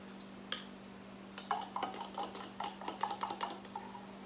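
A fork scrapes and clinks against the inside of a can as a whole can of milk filling is worked out into a bowl. After one sharp knock there is a close, irregular run of metallic scraping, with no talk.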